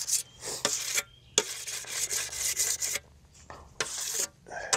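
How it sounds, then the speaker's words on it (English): Rhythmic rasping strokes of a sharpening stone along a scythe blade in a garden, about a dozen quick scraping passes in short bursts with brief pauses between them, close and fairly loud. "step number one is gonna be sharpen the scythe."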